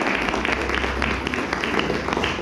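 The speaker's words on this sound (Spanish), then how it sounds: "Así que denle un fuerte aplauso al Señor por eso." A church congregation claps together after the pastor's sermon, a moderate, fairly brief burst of applause over a low rumble in the room, with no one speaking.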